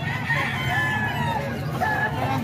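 A rooster crows twice with drawn-out, wavering calls over a low background rumble, fairly close and clear, with no talking.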